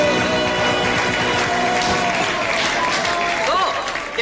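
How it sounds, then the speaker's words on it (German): A crowd applauds continuously, dense clapping filling the room at a steady loudness while voices and cheers mix in. "hat trotzdem einen Applaus verdient"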